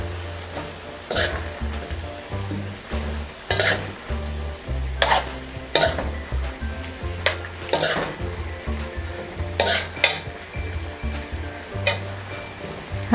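Broccoli stir-fried in a hot pan for chicken gizzard chopsuey, a steady sizzle with repeated scraping stirs at an irregular rhythm. Close and fairly loud, with no talking.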